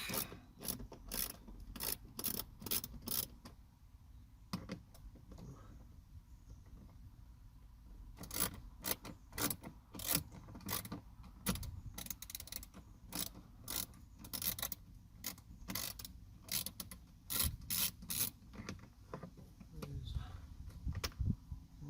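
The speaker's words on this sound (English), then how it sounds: "I've got my 7mm socket to undo these two screws with." A 7mm socket wrench ratchets in quick, clicking bursts while undoing screws during a cabin filter change on a 2016 Ford F-150, with short pauses between runs of clicks.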